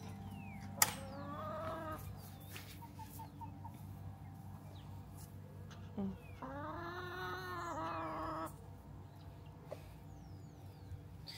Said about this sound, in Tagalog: Alam niyo ba yan ang pinakamaingay ng aking manok?